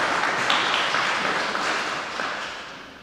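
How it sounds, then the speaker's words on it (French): A church congregation applauds during a Sunday service at Saint-Martin, steady broadband clapping filling the whole stretch, fairly close and even, easing slightly toward the end. "On peut même applaudir Maxime en particulier"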